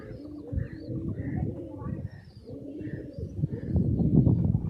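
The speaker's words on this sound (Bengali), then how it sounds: "4টে কবুতর আমার নিচে আসছে" Several pigeons of an Indian Madrasi flying breed coo in low, rolling, repeated phrases close by, with faint chirps above and some background noise, growing fuller toward the end.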